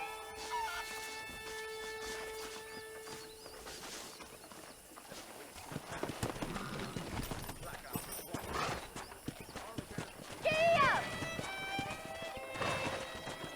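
Horses in the Red Dead Redemption video game pound along in rapid clip-clop hoofbeats, with a sharp whinny partway through. Game voices and ambient effects mix in around them.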